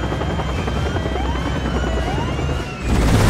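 Helicopter rotor chop and engine roar from Resident Evil 6, loud and steady throughout, swelling heavier near the end with no voices over it.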